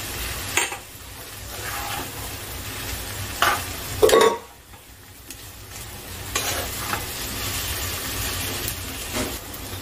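Fried potatoes go into a sizzling Bengali mutton curry in a pan and are stirred. Steady frying hiss runs throughout, with a few clattering scrapes of the spoon against the pan, loudest around the middle.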